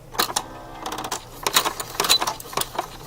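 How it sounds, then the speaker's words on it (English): A sewing machine runs a single straight stitch in short, irregular bursts of clicking and whirring, close and fairly loud, with brief pauses between runs. "I'm just going to get going doing a single straight stitch"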